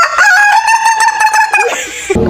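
A rooster in a movie trailer for Girl From Nowhere: The Reset gives one loud, close cock-a-doodle-doo crow lasting about two seconds, ending in a brief rustle.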